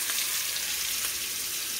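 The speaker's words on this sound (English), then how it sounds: "To this butter, I'm gonna be adding a whole onion" Chopped whole onion hitting hot butter in a pan, a loud, steady, close sizzle that carries on without a break for a couple of seconds, with no voices.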